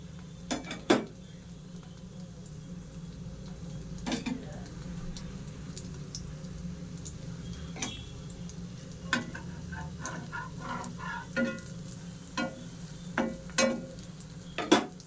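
Bread slices fry in oil for a bread omelette, a low steady sizzle under scattered sharp clicks and clinks of a spatula against the pan.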